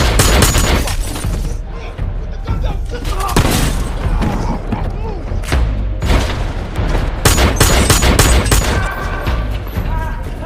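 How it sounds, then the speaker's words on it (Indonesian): Gunfire from a film scene of a man shooting robbers: dense, loud volleys of shots and booms roll on without pause, mixed with a voice talking over the action. "tiba-tiba Ed menembaki perampok-perampok tersebut"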